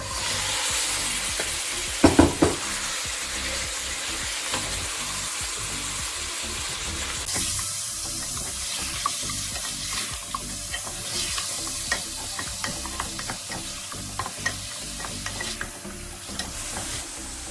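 Mutton pieces frying in about six to seven tablespoons of hot oil in a kadai over a medium flame, giving a steady loud sizzle with a few sharp clatters early on, then continuous crackling and stirring scrapes, with no voices.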